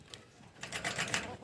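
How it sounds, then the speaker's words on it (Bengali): Pet quails kept for eggs give a short call, a faint, close burst of chirpy notes heard alone after a quiet start. "আমার কোয়েল পাখি এখন ডাকে"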